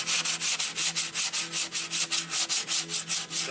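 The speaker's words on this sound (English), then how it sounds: "A little bit more sanding is needed." Rhythmic hand sanding on an HO scale model car ferry, steady back-and-forth rubbing strokes about four per second, close and fairly loud with no talking.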